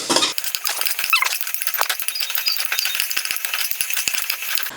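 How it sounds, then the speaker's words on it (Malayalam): Sliced onions sauté in a hot pan for potato curry, a continuous loud sizzle broken by frequent clinks and scrapes of a utensil stirring against the pan. "ഇനി നന്നായിട്ടൊന്ന് വഴറ്റിയെടുക്കാം"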